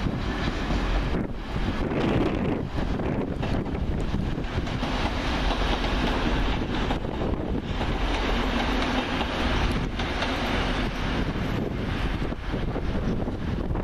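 A passenger train on the Newcastle to Liverpool Lime Street service rolls steadily past at close range, a continuous rumble with faint clickety-clack and wind buffeting the microphone throughout.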